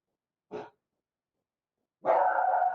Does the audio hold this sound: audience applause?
no